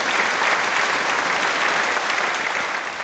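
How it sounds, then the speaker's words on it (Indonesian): An audience claps steadily and loudly for Mr. Chen as he goes up on stage, a dense even wash of applause lasting the whole three seconds. "Sekarang mari kita berikan tepuk tangan untuk Bapak Chen naik ke panggung."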